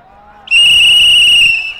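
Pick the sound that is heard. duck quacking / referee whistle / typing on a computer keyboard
referee whistle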